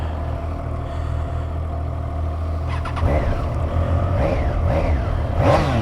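A Triumph Trident 660 triple idles with a low exhaust burble, then gets several sharp throttle blips that rise and fall in pitch, each rev louder and close by.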